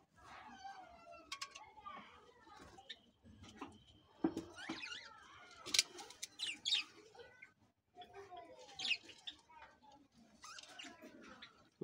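Budgerigar chicks and adult budgies in clay breeding pots make busy, close, high chattering chirps and squeaks in bursts, with brief pauses between them.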